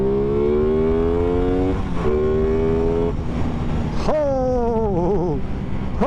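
An Aprilia Tuono 660 motorcycle, in its 70 kW version, accelerates hard on the road, its engine note climbing through several gears with brief dips at each shift, loud and close over steady wind rush.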